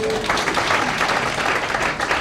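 An audience at a magic show at the Magic Castle claps in a loud, dense burst of applause that carries on steadily for a couple of seconds, with faint voices mixed in.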